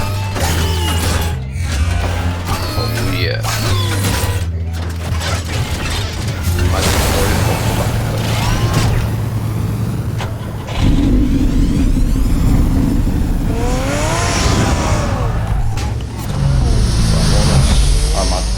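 The Batmobile in the Batman Telltale video game shifts into driving mode with a long run of mechanical whirs, ratcheting clanks and gear sounds, then a loud roaring engine that revs close up, with voices talking over the transformation.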